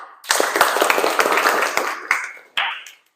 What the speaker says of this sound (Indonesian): Tepuk tangan untuk kelas 7A.